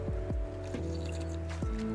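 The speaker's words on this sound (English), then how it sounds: "I should probably drink while I'm in here." Player character drinking river water while standing in a river in Medieval Dynasty, heard as four short wet gulping splashes spaced unevenly over a steady musical background.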